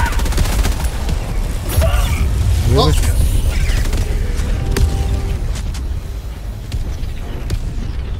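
Rapid gunfire and booming explosions from the Helldivers 2 video game. The bursts crackle and thud in quick succession, and players talk briefly over the loud, dense battle.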